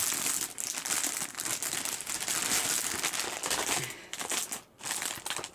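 Continuous loud crinkling and rustling of plastic packaging as a package of diamond painting Christmas cards is opened by hand, close up, with a brief lull near the end.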